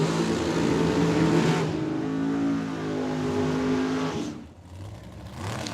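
Drag racing at Tucson Dragway, with a Super Street Camaro launching: a loud, close engine roar with rising revving harmonics that holds for several seconds, cuts away, then returns more faintly.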